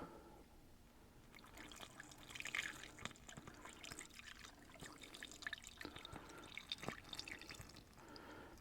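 Evaporust is poured into a manual transmission case, a faint, steady trickle and dribble of liquid with scattered drips and small splashes over several seconds, quiet and close.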